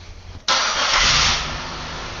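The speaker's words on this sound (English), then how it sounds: "So I'm going to go ahead and start the car" A car engine cranks and catches at once, jumping to a loud, steady idle that keeps humming evenly afterward, close up in a workshop.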